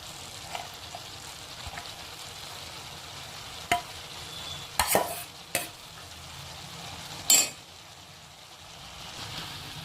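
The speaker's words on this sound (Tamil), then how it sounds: "முட்டைக்கோசை போட்டு ஒரு வதங்கினாலே நல்லா வதங்கிரும்" Purple cabbage being sautéed and stirred in a pan, with a soft steady sizzle and a few sharp clinks and scrapes of a spoon against the metal, no talk.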